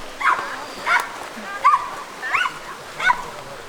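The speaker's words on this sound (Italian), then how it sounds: "sono due super cani che si sono incontrati e uno non era d'accordo" Two dogs barking and squabbling during an outdoor hike, five sharp yips and barks spaced about half a second apart, fairly close and loud over a quiet background.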